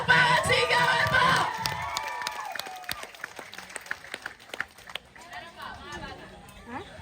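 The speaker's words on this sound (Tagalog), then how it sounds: "Bukal Jessa Malakasa, palakpakan, sigawan mo!" Crowd at a political rally for Congresswoman Beatrix Luistro applauds and cheers loudly for the first second and a half, then scattered claps, shouts and children's voices carry on more thinly with chatter underneath.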